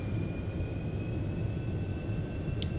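A simulated F-4 Phantom II jet roars steadily at near full power with afterburner during takeoff in X-Plane 12, a dense continuous low rumble with a faint high whine.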